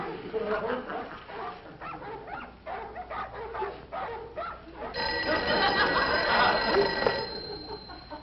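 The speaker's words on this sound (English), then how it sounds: "What makes dogs bark at night?" Neighbors' dogs bark at night in a vintage sitcom scene, with repeated yaps and barks throughout. A telephone bell starts ringing over them partway through, and voices talk in the background.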